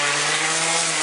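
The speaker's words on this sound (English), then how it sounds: "I'll be sanding the shit out of this thing" Loud, steady power sander whirring against wood with 40-grit coarse sandpaper, a continuous abrasive hum with a strong low drone and no talking.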